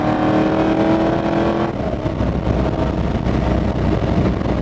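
A 1967 Ford Mustang with a stroker engine accelerates up a highway cloverleaf at about 50 mph, the loud steady engine note heard from inside the car with a shift in tone partway through and no talk over it.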